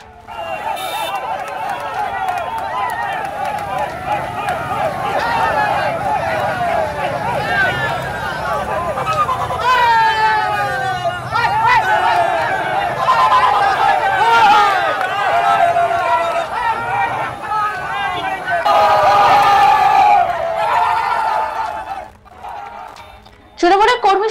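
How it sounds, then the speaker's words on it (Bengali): A protesting crowd surrounds a former minister's car and chants a rhythmic, repeated 'thief, thief' slogan. Excited voices and shouting rise and fall across a loud, continuous stretch of crowd noise. "গাড়ির সামনে ওঠে চোর চোর স্লোগান"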